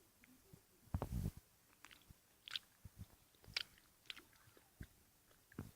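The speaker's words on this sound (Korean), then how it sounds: "이제 네모 스낵을 한번 먹어볼게요" Crunchy square stationery-shop snack, bulgogi flavoured, bitten and chewed up close in a quiet room: a loud first crunch followed by a scattered series of softer crisp bites and chews, no talking.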